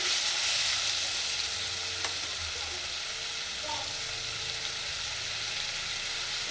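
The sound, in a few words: spices being fried and stirred for mutton curry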